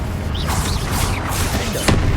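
A Confringo fire spell blast in Hogwarts Legacy, a fiery whooshing burst that swells and fades amid loud game combat noise, ending with a sharp crack.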